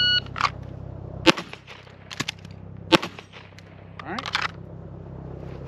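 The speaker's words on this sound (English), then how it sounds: "Do the drill, do it in live fire, and we're going to do it a couple times with a single shot" Handgun shots fired one at a time during a live-fire 3-gun drill: a handful of sharp, loud single reports spaced apart, with quieter clicks and handling noise between them.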